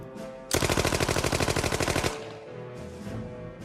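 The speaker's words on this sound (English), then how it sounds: "If there was one gun that let everyone know a criminal had arrived, it was the Tommy gun." A Thompson submachine gun, the Tommy gun, fires one loud sustained automatic burst of about a second and a half, rapid evenly spaced shots, followed by quieter lingering background.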